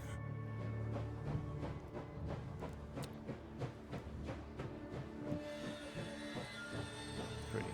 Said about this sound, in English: Train stopping.